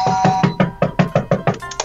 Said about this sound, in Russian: кто-то стучит в дверь